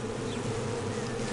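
A honey bee buzzing loudly and close as it crash-lands at the hive, a continuous dense drone with no pauses.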